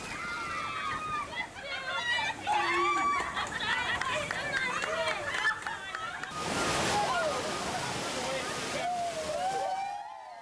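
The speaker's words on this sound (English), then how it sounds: "The climax of this adventure is a breath-catching 25-foot plunge down a furious" Raft on a theme park ride at Disney's Animal Kingdom plunging 25 feet down a furious waterfall, a loud roaring splash and rush of water, with excited voices and shrieks riding over the churning water.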